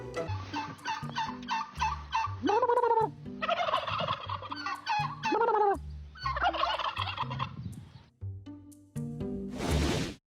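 Turkeys gobble repeatedly in loud, rapid bursts at a military position in Ukraine, several birds overlapping with warbling calls, then a short rushing burst of noise near the end.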